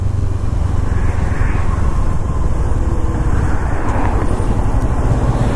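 A Kawasaki Ninja 650 motorcycle launches hard from a stop, its engine roaring loudly and close as it climbs through the revs.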